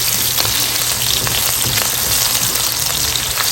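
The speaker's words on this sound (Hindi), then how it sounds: "अब इसमें हमने जो प्याज चॉप की थी 1 लार्ज साइज़ की वो डालेंगे और इसको फ्राई करेंगे।" One large chopped onion hits hot oil already holding two large black cardamoms and three or four cloves, and it fries with a loud, steady crackling sizzle throughout. A few faint stirring scrapes sit under it, and no one speaks.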